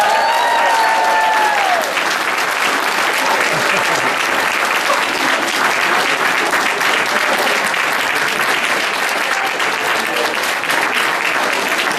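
A large crowd applauds steadily and loudly throughout a university induction ceremony, with a whistle or cheer near the start and no break in the clapping.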